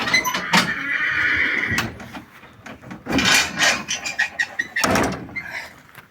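A mare whinnies several times from a trailer, interspersed with wooden knocks and clatter nearby.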